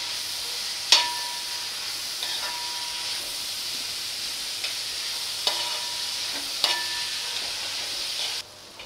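Finely chopped onion fries in a pan for a Fort Kochi–style potty curry, giving a steady close sizzle with a few sharp stirring clinks, then dropping away abruptly at the end.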